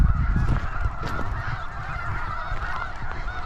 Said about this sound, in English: These are birds off in the distance there.